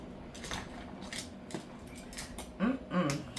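A large boiled crab being flipped over in a pot, giving soft scraping and clattering shell-against-metal knocks, quiet at first and then two fuller clunks near the end.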